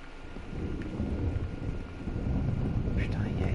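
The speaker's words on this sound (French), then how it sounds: "il y a l'orage, il me fait chier" Thunderstorm with rain in the video game Gone Home, a steady low rumble with rain hiss building slightly louder, and a voice faintly underneath.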